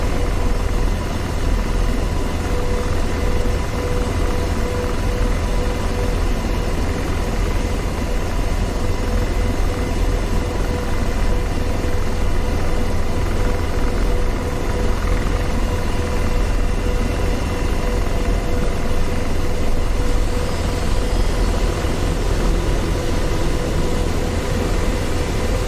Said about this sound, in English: We're just making the helicopter swivel to the right.